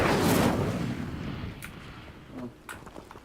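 An Incendio fire spell cast in Hogwarts Legacy, a loud whooshing burst of flame that fades over about a second, followed by a couple of fainter magical hits.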